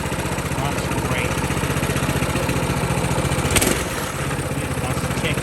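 A CT200U minibike engine running steadily at idle, a loud, even putter with a brief rev bump partway through, close by, with no talking.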